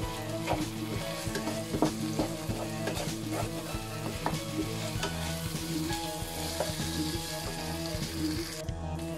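Meatloaf mixture seasoned with oyster sauce sizzles and fries steadily in a pan, with repeated clanks and scrapes of stirring over the constant crackle, close and alone.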